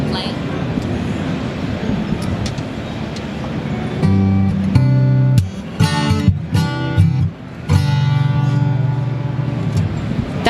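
A $150,000 Martin acoustic guitar strummed in a noisy trade-show hall at Summer NAMM, a few ringing chords rising out of crowd chatter and background hum, with voices around it.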